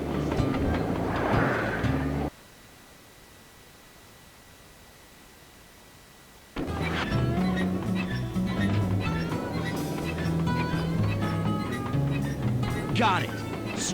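In the video game Sly 2: Band of Thieves, a train runs with a steady rolling rumble and rail clatter, dropping out to near silence for a few seconds before resuming, with speech over parts of it.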